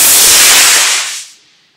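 A model rocket motor fires at launch with a loud, close hissing roar of broadband rushing noise that holds for about a second, then fades quickly away to silence.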